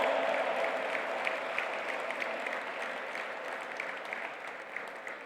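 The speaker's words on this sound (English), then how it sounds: "A big round of applause, my friends." Crowd at an interfaith forum in Pune applauds in a sustained, dense wash of clapping that fades slightly toward the end, with no speech on top.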